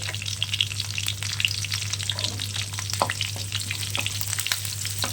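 Garlic-cumin paste with green and dried chillies fries in a pan, a soft steady sizzle broken by scattered pops and light scraping stirs, close and fairly quiet with no talking.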